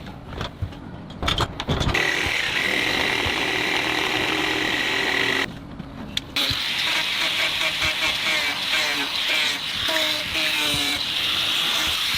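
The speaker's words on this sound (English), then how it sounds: "Trimming off the excess ends of the roof rafters to give the cabin a neat and perfectly aligned look." A power tool cuts through the ends of wooden roof rafters on a cabin build, a loud continuous whining buzz that stops briefly twice and then resumes steadily, close by.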